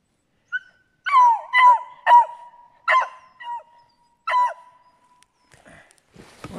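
A beagle barks in deep snow on a steep creek bank, a string of about seven loud, high, drawn-out yelping bays at uneven intervals, with faint rustling at the end.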